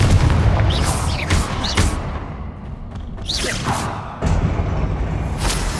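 A Confringo blasting spell explodes in the Hogwarts Legacy video game, booming bursts and whooshes layered with loud continuous game sound effects.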